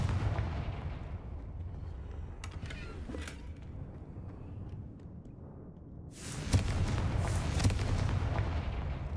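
A Confringo fire spell explodes in the video game Hogwarts Legacy, a sustained rumbling blast that swells louder around the midpoint, with dense crackling bursts layered over a low roar and no voices.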